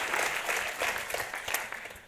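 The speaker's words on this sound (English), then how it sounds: "Please give them a round of applause again." A conference audience applauds, a steady wash of many hands clapping, moderately distant and fading slightly toward the end.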